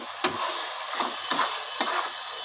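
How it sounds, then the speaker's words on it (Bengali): Potatoes sautéing with spices in oil in a pan for a fish curry, a steady soft sizzle broken by four scraping stir strokes, close and clear with no talking. "আলু দিয়ে এবার মশলার সাথে কষাচ্ছি একসঙ্গে"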